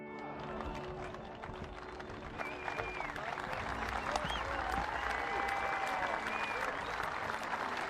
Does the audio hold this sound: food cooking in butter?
no